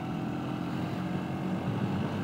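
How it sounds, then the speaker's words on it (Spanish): A Honda NHX 190i motorcycle engine drones steadily on at a fairly low level, an even hum with no revving peaks and no voices. "Y la moto tiene un sonido bacano"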